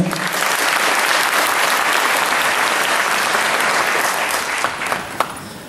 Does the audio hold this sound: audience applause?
yes